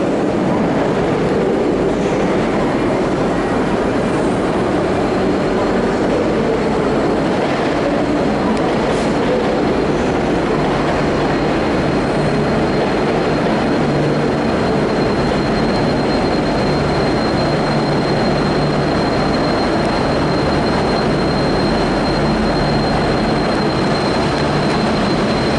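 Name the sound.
two locomotives pulling into the platform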